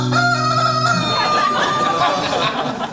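A rooster crows loudly across the clip with steady harmonic tones, amid a noisy comedy-show setting with background crowd sound.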